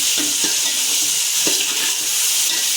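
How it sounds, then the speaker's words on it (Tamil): Onions frying in a pan for cumin samba rice, a steady bright sizzle with a few soft stirring scrapes, close and continuous with no talking. "ஸோ அதனால் நல்லா ஃப்ரை ஆகட்டும் இது ஃப்ரெண்ட்ஸ்"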